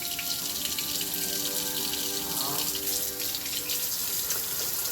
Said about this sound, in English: turn on the faucet and adjust the temperature of the water to warm.